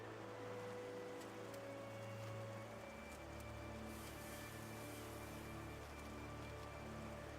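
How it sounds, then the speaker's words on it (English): Oil bubbling as it is sterilized in the RuneScape 3 video game, a faint, continuous fizzing and crackling bed with low hum beneath, steady throughout with no talk. "I hear it bubbling"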